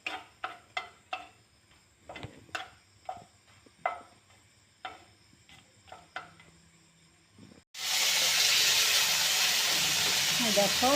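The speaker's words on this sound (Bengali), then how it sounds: "তাই প্রথমে দুটো না মানে একটা শুকনো লঙ্কা ভেজে নিচ্ছি।" A dried red chili hits hot oil in a pan. A series of sharp ticking clicks gives way to a sudden, loud, continuous sizzling hiss that lasts until the end.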